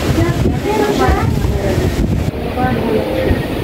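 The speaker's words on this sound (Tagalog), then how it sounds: "Lakas ng hangin." Strong storm wind blowing hard and continuously, a dense roaring rush that buffets the microphone throughout, with muffled voices underneath.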